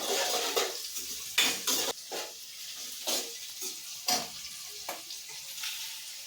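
Onions frying with salt in a pan, a low hiss under repeated clinks and scrapes of a spoon stirring against the metal, close and steady with no talk.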